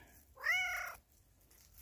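A cat gives a single clear, drawn-out meow, fairly close and quiet, followed by near silence and a brief rustle at the end.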